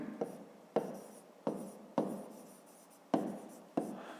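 A pen or pencil scratches across paper while math answers are written out in a fifth-grade math exercise, giving a series of six short, close strokes, each starting sharply and trailing off, with no talking.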